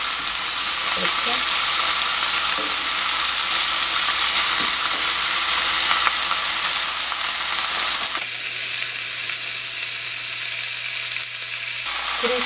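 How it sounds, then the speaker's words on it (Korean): Dried yellow croaker fish sizzles and fries steadily in a pan, a loud, continuous crackling hiss that shifts in tone partway through as the fish is flipped, with no talk. "한쪽 면을 다 데웠으면 자, 다른 한쪽 면도 데워줄게요."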